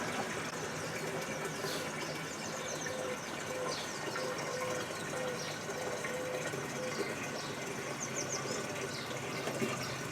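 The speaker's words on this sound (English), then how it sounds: "I'm now going to just fill this up right to the top, which I know is 20 litres." Water runs steadily from a garden hose into a 20 litre container, a continuous even rushing and trickling that holds at a constant level throughout with no one talking.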